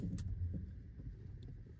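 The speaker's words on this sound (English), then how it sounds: "I can really hear a clunking noise coming from the front of the car." Front suspension of a 2011 Mazda 3, likely worn bushings or control arm, knocking with a few low dull clunks inside the car under steady road rumble, no talking.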